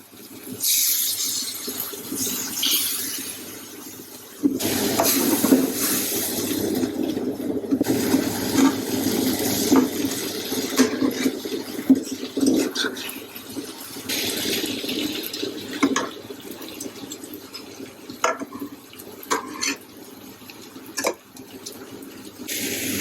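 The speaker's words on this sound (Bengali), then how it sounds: "আমি একটু মিক্সার ব্লেন্ডার থেকে একটু জল দিয়ে দিব।" Water from a mixer blender jar pours into a simmering okra and mustard curry, a continuous close splashing and gurgling that runs almost the whole time with a brief pause early on.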